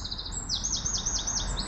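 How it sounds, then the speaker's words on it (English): Birds chirping near a former railway line by Rufford Lane, rapid repeated high tweets and trills over a low outdoor rumble, clear and continuous. "Some beautiful birds"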